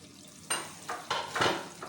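A pan of spiced potato curry with red and green chillies is served out, giving several short scraping and stirring scrapes with a light sizzle, spaced irregularly and close by, with no talking.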